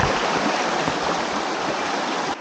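Creek water rushing along a polluted stream at the edge of a town, a loud continuous broadband wash close by that cuts off abruptly near the end, no talking.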